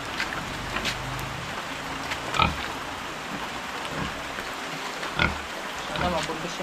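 A pig grunts and snorts a few times, close and intermittent, over steady rain-like noise outdoors, with muffled voices mixed in.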